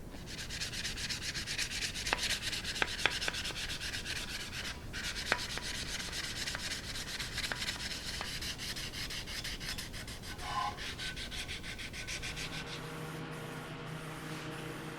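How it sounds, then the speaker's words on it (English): Light hand sanding with 600 grit sandpaper on parts of a 1950s Craftsman paint sprayer, a steady soft rubbing scrape that runs without a break, close and moderately quiet, with a few faint clicks mixed in. "Just going to give everything a quick light sanding with some 600 grit."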